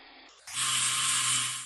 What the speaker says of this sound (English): shaving down the edge of the oil drain line from the turbo, which didn't quite fit on the new turbo, so just needed profiling slightly with the angle grinder